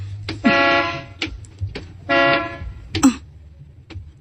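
Two long car horn blasts separated by a pause, with a few shorter toots and thumps in between, fairly close, sounded at a gate.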